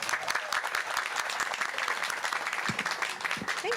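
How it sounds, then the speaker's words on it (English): Sustained applause from a graduation ceremony audience for the class of 2022, steady dense clapping filling the hall throughout with no voices on top. "I'm going to give you guys a round of applause because I'm so proud of you."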